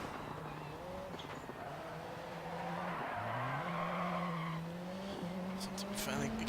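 A light, all-wheel-drive 600-horsepower rallycross car in DiRT 4 drones and climbs in engine pitch while its tyres scrub and skid across the surface, staying steady and moderately close throughout.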